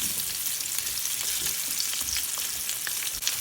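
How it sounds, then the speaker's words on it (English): Potatoes and peppers fry in a pan, a steady close crackling sizzle with small pops and light stirring scrapes and no talking. "All right, tossing in my potatoes and my peppers."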